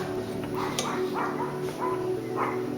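Several dogs bark and yip repeatedly at a distance over a constant mechanical hum.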